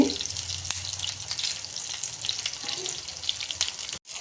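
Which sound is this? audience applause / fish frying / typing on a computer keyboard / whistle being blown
fish frying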